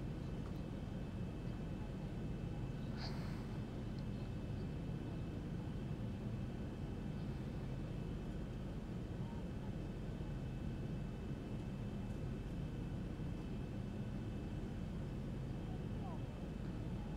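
A simulated airliner descends toward the runway in the X-Plane 11 flight simulator on a route from Gatwick to Edinburgh, a steady, even engine and airflow roar held at a constant level throughout with no talk.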